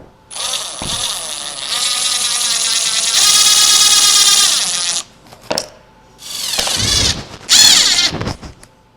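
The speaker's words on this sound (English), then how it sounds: "We'll pre-drill some holes and we will" A power drill pre-drilling holes and driving screws into a wood bottle opener, with long whining runs of the motor followed by shorter bursts as the screws go in, loud and close.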